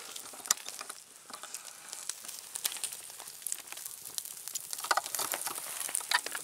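Soft continuous sizzling with crackling pops and spatters, fairly quiet and close, with no talking.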